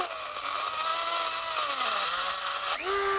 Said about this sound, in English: I'm not very good at the Dremel.